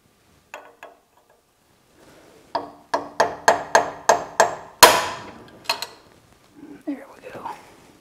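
A hammer strikes a steel chisel in a workshop with bright, ringing metallic blows. A few light taps lead into a steady run of six evenly spaced strikes and one harder hit, followed by scattered knocks and a faint murmured voice.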